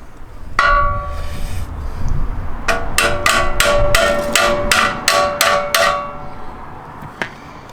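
Metal tapping on the chassis of a mini folding trailer for a motorcycle: a single strike, then a quick run of about nine sharp, ringing hammer-like taps, and one last faint tap.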